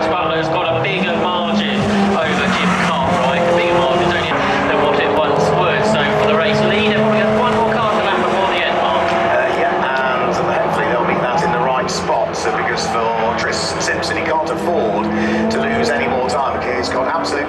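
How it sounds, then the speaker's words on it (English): Classic Ferrari race cars roar around Brands Hatch during a Ferrari Classic race, engines droning loudly and continuously as they pass, with a commentator talking over the engine noise throughout. "this opening Ferrari Classic race of the day, and the leaders doing their way through Druids"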